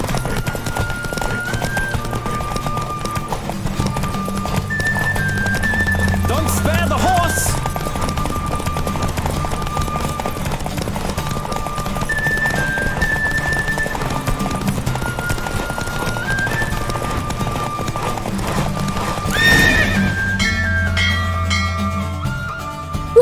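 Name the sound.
horse galloping and neighing in The Witcher 3: Wild Hunt video game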